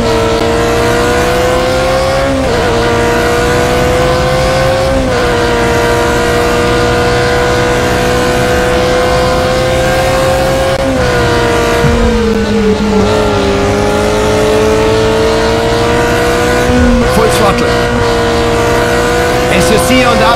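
BMW M3 GTR race car in Need for Speed Carbon on the Nürburgring Nordschleife, a loud, continuous engine drone that climbs in pitch and dips at quick sequential gear changes. Someone talks over it.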